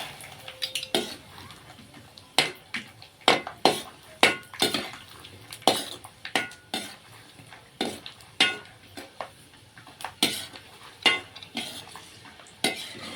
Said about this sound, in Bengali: সব চালগুলো আমি ভেজে নেব বাদামগুলো ভেজে নেব